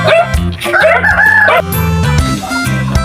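A Rhode Island Red rooster, over three years old, crows loudly and close by in a long harmonic call, with a few clucks and other fowl noises around it.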